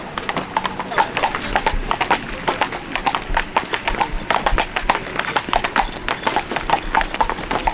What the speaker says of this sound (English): a whole bunch of people opting for the horse-drawn carriage